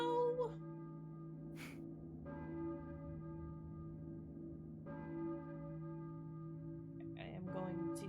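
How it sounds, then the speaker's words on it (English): A church bell rings in the Silent Hill video game, with several spaced, resonant strikes whose long ringing tones sustain and overlap over a low ambient drone, fairly quiet, with a brief breath or gasp near the start. "I hear a church bell, I think."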